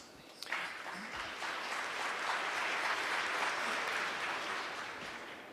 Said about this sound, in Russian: длительные, продолжительные аплодисменты в адрес выступающих